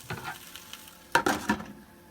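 Wet spinach is stirred in a pan as it wilts for a pumpkin, leek and spinach quiche: a few quick scraping, rustling stir strokes over a faint sizzle, close and brief.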